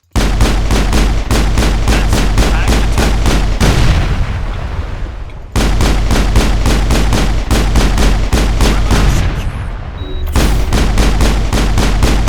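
Rapid sci-fi weapon fire from the Mass Effect video game rattles off in long, steady bursts of repeated shots, broken by two short pauses, loud and dry with no talking.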